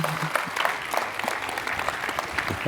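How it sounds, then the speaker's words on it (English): Audience applause for Mr. Heinecke, honoured with the FHS Africa Leadership Award for hospitality: a room of people clapping steadily in a dense, continuous patter, moderately loud, with scattered individual claps standing out. "Please, a round of applause to Mr. Heinecke"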